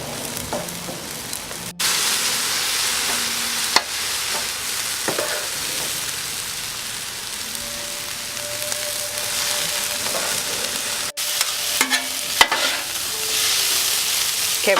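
Chow mein noodles and meat fry on a Blackstone flat-top griddle with a continuous, loud sizzle, broken by occasional scraping and clacking as the food is tossed together.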